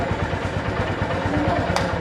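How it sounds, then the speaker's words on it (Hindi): A Honda 125 motorcycle engine starts and runs with a steady, throbbing idle, close and moderately loud, plus a brief click near the end. "मैं बाइक स्टार्ट कर रहा"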